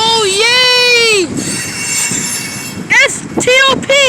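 A train passing in Elkhart, Indiana gives off loud, sustained metallic wheel squeals, a rumbling gap, then more squealing bursts close by, with a voice calling out over it.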